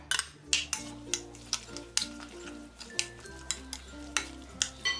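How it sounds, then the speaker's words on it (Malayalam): Salt and yogurt mixed into prawn biryani masala in a pot, with a spoon clinking and scraping against the metal in a steady rhythm of about a dozen close, sharp knocks and no talking. "ഇതിലേക്ക് ഇനി ആവശ്യത്തിനുള്ള ഉപ്പും ഈ എടുത്തു വെച്ചിരിക്കുന്ന തൈരും ഒഴിച്ച് ഇതെല്ലാം കൂട്ടിയിട്ട് ഒന്ന് മിക്സ് ചെയ്തെടുക്കാം"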